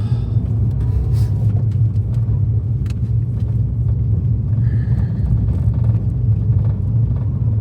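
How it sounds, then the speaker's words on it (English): Tyre noise from an Abarth car on a gentle test drive, a steady low road roar and rumble from the cabin throughout, with a few faint clicks and knocks. "Lots of tyre noise from these tyres."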